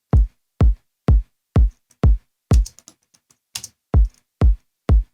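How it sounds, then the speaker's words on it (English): Layered kick drum with a round, deep bottom end, hit alone in a steady pulse of about ten punchy, quickly decaying thumps. A short stretch of faint clicks and hiss breaks the pattern midway. "super round bottom end kick."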